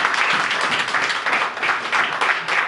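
A church congregation applauds together after a Gospel reading, a dense sustained wash of many hands clapping at steady loudness for a few seconds, with no voices over it.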